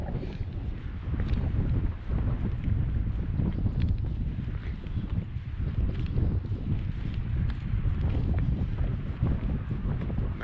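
Cold wind gusting across a lake at Glendalough, Ireland, a constant low buffeting roar of wind on the microphone, fairly loud and unbroken, with no talking.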